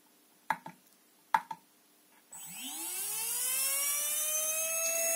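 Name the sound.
RC 3650 brushless motor spinning during noise test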